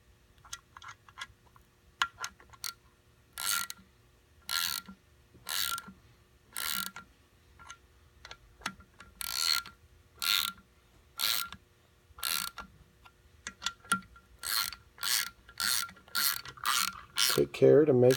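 Press tool working an ASF rear seal into place, a run of sharp rhythmic ratcheting clicks in short bursts, stepping evenly around the seal with brief pauses between strokes, close and fairly loud.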